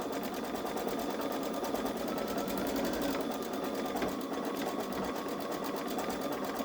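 Babylock Solaris Vision embroidery machine stitching out a design converted from a scanned logo, a steady loud continuous mechanical whir with rapid needle rhythm, close and uninterrupted.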